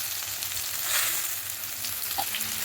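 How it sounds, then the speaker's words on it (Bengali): Potato and pumpkin cubes with cumin, turmeric, chilli powder and green chillies sautéing in a pan, a steady close sizzle with soft stirring scrapes. "একটু অল্প করে জল দিয়ে মশলা ভালো করে কষিয়ে নেব"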